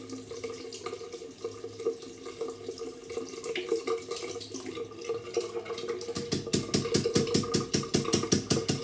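A tap runs gently with water trickling and splashing steadily during shaving, close and continuous, with the flow turning into a rapid, rhythmic pattering in the final seconds.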